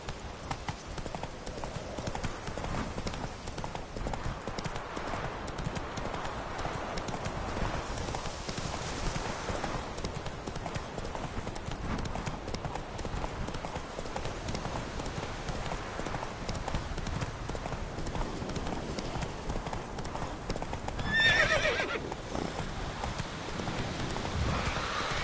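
Roach the horse galloping in The Witcher video game, a steady rapid clip-clop of hooves running throughout, close and even, with a brief louder burst of sound near the end and no speech.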